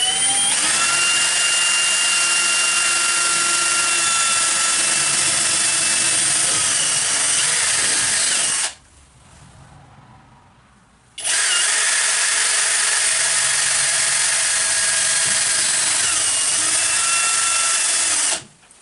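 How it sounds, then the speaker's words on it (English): A power drill with a 1/8 inch bit bores holes for a commercial door closer, whining loud and steady for several seconds, stopping briefly, then running again at full speed. "Drill them out with a 1/8 inch to start."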